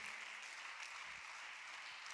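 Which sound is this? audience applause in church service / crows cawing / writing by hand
audience applause in church service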